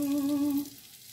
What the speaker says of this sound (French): Ensuite, déglacer avec le vinaigre balsamique.